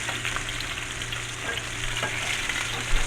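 Salmon fillet frying in a pan, a steady close sizzle and crackle that runs without pause, with faint scraping under it and no talk.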